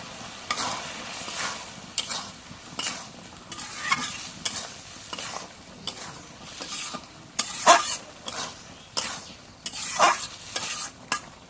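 Potatoes and goat tripe being stir-fried in a pan, a steady sizzle broken by repeated scraping strokes of a spatula at an irregular rhythm, close and moderately loud, with no voices.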